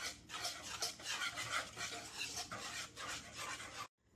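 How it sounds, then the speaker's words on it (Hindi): A spoon stirs a kulfi mixture with nuts in a pot, giving a steady, close scraping and swishing that runs continuously for a few seconds, then stops. "फिर से मिक्स कर लें।"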